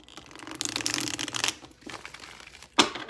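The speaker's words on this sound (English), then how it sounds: "one more shuffle, and we'll pull them" Tarot cards are shuffled by hand close up, a papery riffling burst, a pause, then a quieter rustle and a final sharp snap of cards.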